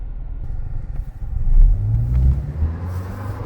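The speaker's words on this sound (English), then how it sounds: "Nice little one-wheel peel" A 2001 Toyota Camry revs its engine in a deep, close rumble that swells into a heavier surge at mid-clip during a one-wheel peel, then eases back to a steady drone.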